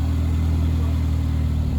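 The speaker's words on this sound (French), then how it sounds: "Le son du moteur" A turbocharged 4MATIC car engine rumbles steadily at close range, a deep continuous idle with no voices.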